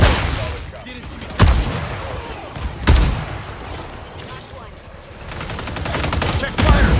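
An artillery fire mission strikes during Call of Duty Modern Warfare 3 multiplayer, with two heavy booming impacts a second or so apart over rumbling battle noise and rapid gunfire, and a further burst of shots near the end.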